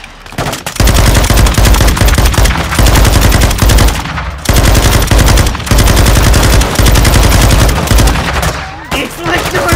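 Loud, close machine-gun fire from Call of Duty Modern Warfare II, sustained rapid bursts of automatic gunfire broken by brief pauses over about ten seconds.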